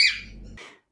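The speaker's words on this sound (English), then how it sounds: "If your cockatiel keeps screaming all the time," A pet cockatiel lets out a single loud, harsh scream, close and piercing, followed by a shorter, quieter squawk before silence.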